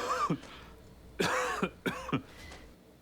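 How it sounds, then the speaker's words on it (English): A person coughs several times up close, a few harsh barking coughs in quick bursts with short pauses between. "he's been coughing all day"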